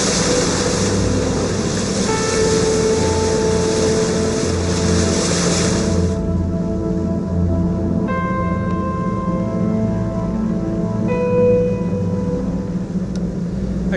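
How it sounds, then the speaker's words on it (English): A sailboat motor sailing under engine through calm water, with a steady low engine drone and water rush that continues throughout, with no talk. "We're motor sailing along nicely"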